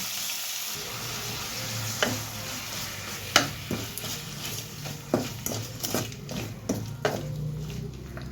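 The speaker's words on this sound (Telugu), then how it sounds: "ఇప్పుడు ఈ టమాటా పచ్చివాసన పోయే వరకు వేగాలండి" Tomatoes sizzle steadily in a pan with a spicy ground paste and chilli powder while a spoon stirs and scrapes, giving several sharp metallic clinks and taps over the continuous frying hiss, close up.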